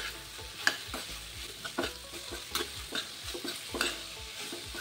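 Tomato and coriander mixture cooking in a pan: a quiet, continuous sizzle with soft, repeated scraping and tapping from stirring at a steady, unhurried rhythm.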